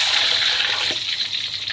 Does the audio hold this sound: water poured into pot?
yes